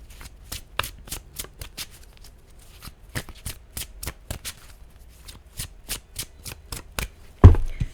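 Tarot cards being shuffled by hand in a quick run of crisp riffling snaps, close and fairly loud, with a brief thump near the end and no talking.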